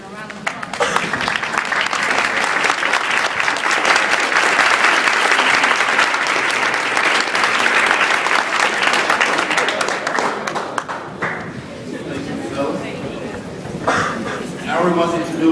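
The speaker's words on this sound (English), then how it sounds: "To everybody stand up and give Jim Peterson a round of applause." A standing audience at a university Democrats versus Republicans debate bursts into loud, dense applause that holds strong for about ten seconds, then thins into scattered claps and murmuring voices.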